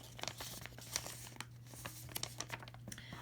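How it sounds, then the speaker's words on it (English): Paper being folded for modular origami, with soft crinkling and creasing sounds in short, irregular bursts, close and quiet. "now we're going to fold along the original fold lines to the center, like so."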